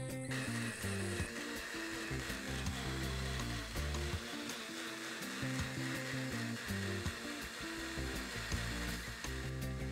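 Kitchen blender grinding garlic, shallots, ginger, turmeric and candlenuts into a spice paste, a loud continuous whirring drone with shifting pitch as the blades churn, alone without talk.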